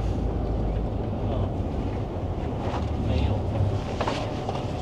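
Inside the Shanghai maglev train as it pulls into the station, a steady low rumble and airy hiss fill the cabin with faint voices underneath.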